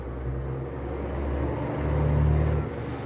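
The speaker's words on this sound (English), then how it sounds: "that truck is loud" A loud truck rumbles past nearby, a heavy low engine drone that swells and peaks before easing off, filling the whole moment with no speech over it.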